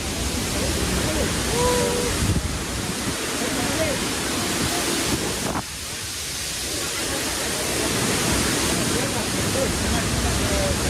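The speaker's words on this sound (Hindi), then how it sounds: "यही है दोस्तों टैंगसुरी मेन वाटरफॉल" Krangsuri main waterfall in West Jaintia Hills, Meghalaya, gives a loud, constant roar of falling water, with a brief faint voice early on.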